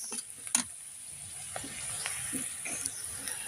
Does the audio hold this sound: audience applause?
no